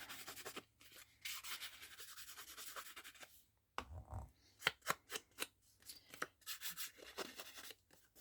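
Close, crisp scissors snipping through paper in quick irregular cuts, with rustling and brief pauses between strokes.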